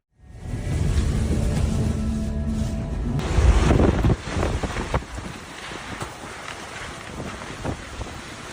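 Strong gusting wind roars at the coast, buffeting the microphone in heavy surging blasts that peak, then ease into a rougher, uneven rumble with scattered clatter, with no voices.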